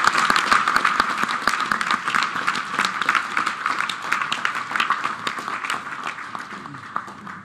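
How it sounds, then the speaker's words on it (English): Audience members at a London panel on a VR and AR accelerator program clap for the panelists, distinct individual claps forming a sparse, fairly close patter that gradually softens. "let's end with a massive round of applause for our panelists"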